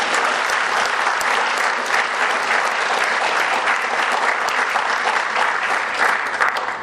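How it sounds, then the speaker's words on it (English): Sustained, dense applause from a large crowd at a 40th anniversary gala, steady and loud throughout with no voices rising above it. "Let's give them another round of applause."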